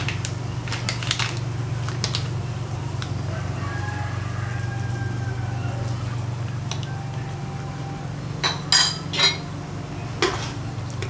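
A spoon clinks and scrapes against a pot while Balinese soto babi is stirred, scattered metallic taps over a steady low hum, with bursts of louder clatter near the end.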